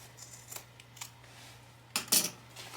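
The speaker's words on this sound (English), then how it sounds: "I'm going to trim up that overhang just so you can see it a little bit clearer." Scissors snip off the fabric overhang at the corner of a sewing project, a few faint clicks followed by two louder, crisp cuts close by, with no talking.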